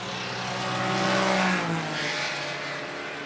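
Classic Ferrari and Maserati 250F Grand Prix cars race past, engines roaring loud and close, rising to a peak as they pass and then fading slightly, with no talk.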